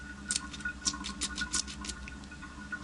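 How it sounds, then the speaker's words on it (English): Faint, quick squirts and spurts of water forced out of a D26 flashlight's faulty switch, several irregular bursts over a low steady hum. "you can hear the water squirting out of the switch and forward."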